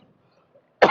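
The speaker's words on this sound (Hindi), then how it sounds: "खांसी हो गया हमको," A single short cough, close and abrupt, after near silence.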